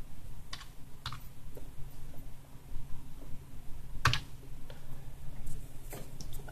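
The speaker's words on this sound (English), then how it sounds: "in the search button, obviously type Cody" Fingers tap steadily on a computer keyboard while typing into a search box, producing a close, continuous run of light clicks and occasional sharper key strikes over a faint background hum, with no talking.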